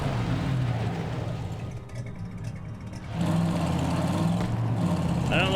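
A truck in the video game Borderlands 3 driving with a steady mid-pitched engine drone and whir, dipping briefly and then surging louder as it accelerates, amid background game noise.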